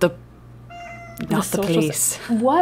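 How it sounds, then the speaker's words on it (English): A house cat meows once, close by, in a short tonal cry; people talking in the room carry on over it before and after. "I'm sorry for my cat meowing in the background."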